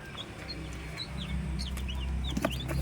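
Rhode Island Red chickens cluck and chirp in short, repeated calls over a steady low farmyard hum, with a few sharper calls near the end.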